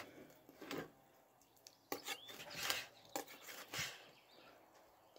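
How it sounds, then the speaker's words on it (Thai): Irregular knife strokes scrape and chop through pike against a board, thin slices cut several quick times, spaced unevenly, fairly quiet with faint background noise. "ได้ปลามาแล้วเฮามาหั่นปลาได้จ้ะ"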